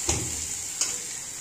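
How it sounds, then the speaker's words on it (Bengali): Onion and carrot frying in a home kitchen pan: a steady bright sizzle fills the short stretch, with two brief louder crackles of spatter or stirring, and no voices. "এই যে এখানে পেঁয়াজ আর গাজর ভাজা হচ্ছে"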